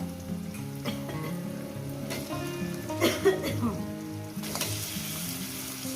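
Chicken pieces frying with onions in a pan for chicken curry, a steady close sizzle and crackle with occasional stirring scrapes, loudest in a brief burst midway.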